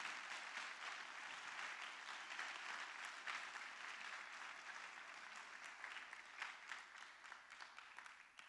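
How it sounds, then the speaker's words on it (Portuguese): A church congregation breaks into sustained applause for Jesus during a service, a dense, steady wash of many hands clapping that stays even throughout, heard from some distance with no voices standing out. "Dê um aplauso para Jesus, irmão."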